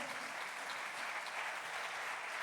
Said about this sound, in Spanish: Dele un aplauso fuerte al Rey de Gloria.